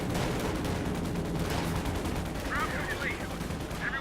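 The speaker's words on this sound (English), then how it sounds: "Panzers getting off some good kills here with the Sturmgewehrs." Sturmgewehr assault rifle fire from German troops in the Company of Heroes 2 WWII strategy game forms a dense, loud, continuous barrage of battlefield gunfire with overlapping shots and a few high whistling tones.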